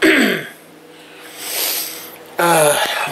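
Coughing from a person speaking at home, with a harsh burst at the start and another at the end, loud and close, separated by quieter breathy noise.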